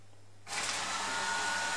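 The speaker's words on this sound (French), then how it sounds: "On lui dit Alexa, allume l'aspirateur." A robot vacuum cleaner switched on by voice assistant kicks in abruptly after a quiet low hum, settling into a steady whirring motor and suction drone close by.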